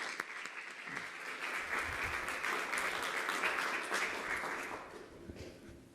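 An audience applauds steadily at an oration for Dr James Muecke, with dense, even clapping from a large crowd that holds for several seconds and then tapers off.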